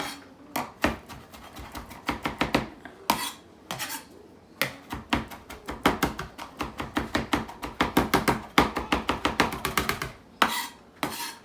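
Knife chopping food for beef stew on a cutting board, a fast steady run of crisp, close knocks in bursts, pausing briefly and resuming, with no talking.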